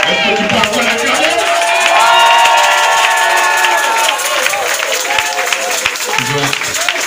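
A church congregation cheers and acclaims loudly at a French-language worship service, a dense sustained roar of many voices with shouts and applause-like bursts, steady throughout and closing in on the listener.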